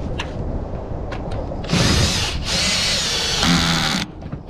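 A power drill drives a metal screw tight in two whirring bursts, each a couple of seconds long, with a short pause between and quiet clicks before.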